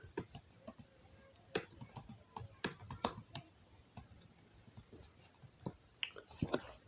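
Typing on a computer keyboard while entering text in Microsoft Excel: irregular bursts of crisp key clicks and taps, close and quiet, with brief pauses between keystrokes and no speech.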